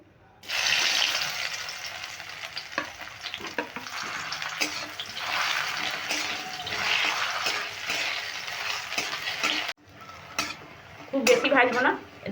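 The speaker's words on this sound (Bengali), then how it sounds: "এবার ডালের বড়িগুলো আমি ঢেলে দিচ্ছি" Lentil dumplings (bori) poured into hot oil in a wok, setting off a steady close crackling sizzle with occasional utensil clinks, a brief pause, then bubbling and faint clatter.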